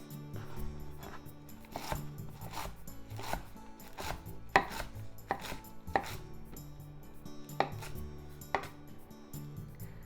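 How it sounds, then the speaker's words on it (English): A knife slices green onion into thin pieces on a cutting board, a steady series of sharp chopping taps, close and clear, with no talking. "If you're using green onion or chive, make thin slices."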